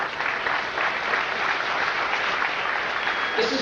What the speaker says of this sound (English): a round of applause for each one